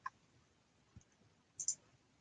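A computer mouse gives a few faint, sparse clicks, one near the start, one in the middle and a quick pair near the end, in an otherwise quiet room.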